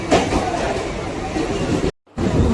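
A crowded local train near Kurla, Mumbai rumbles and rattles loudly from inside the carriage, a continuous heavy roar broken by a brief sharp dropout before resuming.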